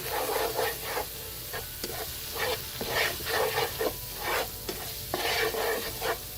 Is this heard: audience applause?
no